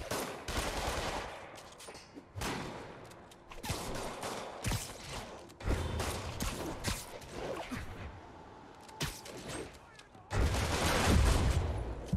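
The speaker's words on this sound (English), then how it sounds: "Why are they shooting?" Bursts of gunfire ring out in the Marvel's Spider-Man video game, with sharp rapid cracks and fusillade-like volleys that come in clusters across the clip, loud and close, mixed with a player's voice and game effects.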